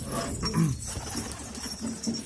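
Pigeons coo in a loft, low, soft throaty calls close by over a faint background rustle.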